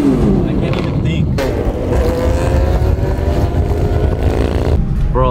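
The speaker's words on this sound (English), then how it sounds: "literally all these cars are hitting out on the freeway now, and bikes." Cars and motorcycles on a freeway, a loud, continuous roar of engines close by with rising revs and passing vehicles, and a voice talking over it.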